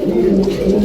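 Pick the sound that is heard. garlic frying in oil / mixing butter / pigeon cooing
pigeon cooing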